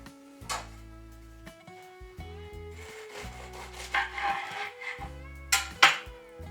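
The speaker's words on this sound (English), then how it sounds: "Right, let's cut them straight open." Knife slicing open Cornish cheese and onion pasties from Warrens Bakery, a sequence of close, dry crunching cuts through flaky pastry with a few sharper crackles near the end, over a low steady hum.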